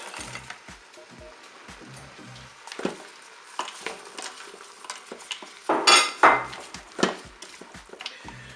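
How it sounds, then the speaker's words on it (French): Carrots tipped into a Cookeo multicooker pot, with scattered clinks, knocks and scraping of a utensil against the pot, a few sharper clattering bursts near the end, otherwise quiet between. "Là je vais ajouter mes carottes."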